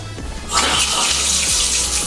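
A newly installed faucet is turned on and water gushes steadily into the sink, loud and close, after a brief quieter moment while hot and cold are tested.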